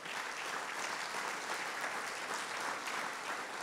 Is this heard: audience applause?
yes